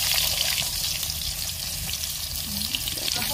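Eggplant fries in hot oil with a steady, close sizzle that runs unbroken throughout, with faint spattering crackles and no one talking.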